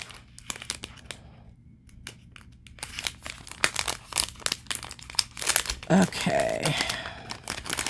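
Plastic bag being opened and crinkled during an unboxing, close crackling and tearing rustles that build into a busy burst, with a brief spoken word.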